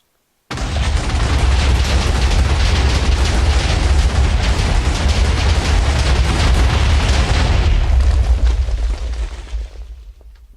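Chemical TNT from the Too Much TNT mod detonates in a video game, a sustained roaring blast that erupts suddenly, stays loud and dense for about eight seconds, then tapers into a rumbling fade.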